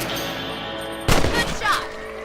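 In Red Dead Redemption, gunfire at rabbits comes as one sharp shot, then a short rattling echo, over a steady outdoor game ambience.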